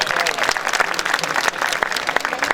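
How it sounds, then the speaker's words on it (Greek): Audience applause at a musical tribute evening in Adriani, Drama, greeting a mayor's grandchildren who excel as musicians; dense, steady clapping from a crowd sustained throughout. "Ένα μεγάλο χειροκρότημα για αυτούς."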